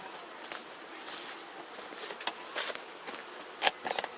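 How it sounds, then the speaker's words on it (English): A honeybee swarm is shaken into a top bar hive, giving a faint, sparse buzzing with soft knocks and brushing bursts scattered across the moment, one sharper thump near the end. "This is going to be shake the bees."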